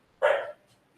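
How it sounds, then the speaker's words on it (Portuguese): A small dog gives one short, sharp bark, close by and fairly loud against a quiet room. "Eu vou pedir para guardar o cachorrinho ali."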